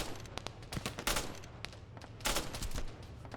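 Small-caliber gunfire in the Arma 3 military shooter game, a rapid uneven fusillade of sharp shots, some clustered in quick bursts, loud and close over a constant background.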